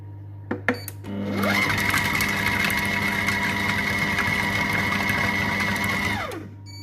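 A Compact Cook Pro kitchen machine spins up at speed 4 for about five seconds, a loud steady whirring motor whine that ramps in, holds, then winds down, preceded by a few sharp clicks.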